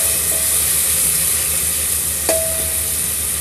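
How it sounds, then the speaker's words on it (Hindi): Tomatoes with turmeric and coriander powder sizzle in a pan for dhaba-style dal tadka, a steady close frying hiss with a brief clink of a utensil partway through. "और 2 मिनट हम टमाटर को भी भून लेते हैं।"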